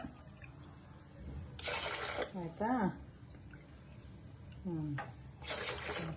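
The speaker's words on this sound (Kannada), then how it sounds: "ನೀರು ಹಾಕ್ತಾ ಇದ್ದೀನಿ" Water is poured into a Prestige filter coffee maker in two short splashy bursts, one early and one at the end, with a person speaking briefly between them.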